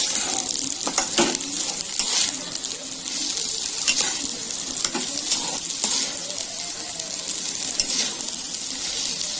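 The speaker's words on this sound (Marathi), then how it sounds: "आता त्यामध्ये पाच सहा लवंग आणि दालचिनी टाकून घेऊया" Whole cloves and cinnamon sticks sizzle steadily in a hot pan for coconut rice, a continuous bright crackle with occasional stirring scrapes, close and fairly loud with no talk.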